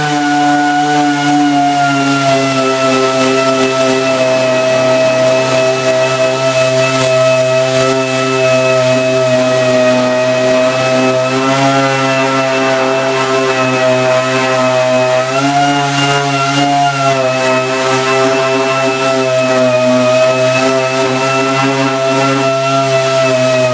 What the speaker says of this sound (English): Now we're going to use 80 grit to take out some of those scratches and vibrator marks that the 40